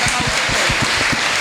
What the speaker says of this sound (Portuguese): uma salva de palmas para Genipabu